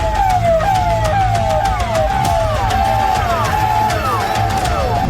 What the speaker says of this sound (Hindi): नेपाल से सटे बहराइच में भी हर तरफ सायरन बज रहा है।